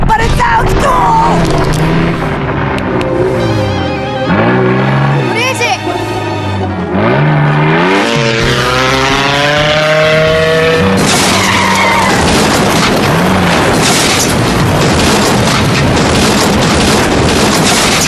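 Cartoon dune buggy racing with loud revving engine, rising and falling pitch sweeps and screeching tire skids, followed by a sustained roaring blast of noise, all close and intense.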